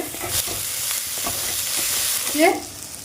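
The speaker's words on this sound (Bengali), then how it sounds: "যতক্ষণে তেল না ছাড়বে ততক্ষণ আমি মশলাটা কষব" Spice paste frying and being stirred in hot oil for a katla fish curry, a close steady sizzle with scraping stir strokes and a brief louder hiss near the end, no voices.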